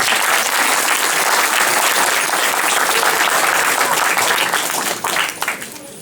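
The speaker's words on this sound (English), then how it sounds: "Give them a good applause" Loud, sustained audience applause fills a community centre hall at a December concert in Drumshanbo, with dense clapping that holds steady and then thins out over the final second.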